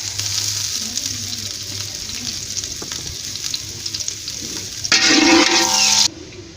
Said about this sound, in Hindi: अब हम इसमें डालेंगे 1 अदद प्याज, जिसको हमने ब्राउन करके निकालना है।